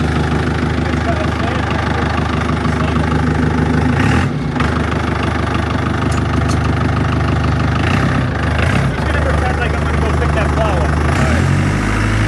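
A large truck engine idles loudly and steadily nearby with a deep, rumbling drone and a low rhythmic pulse, persisting throughout with no break.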